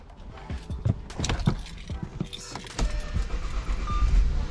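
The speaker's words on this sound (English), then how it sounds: "Starts up nicely, nice smooth idle." An Audi A6, recently repaired, cranks and settles into a smooth, steady idle with a low rumble that swells toward the end, amid some nearby clinks and handling noises.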